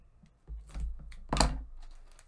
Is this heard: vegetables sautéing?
no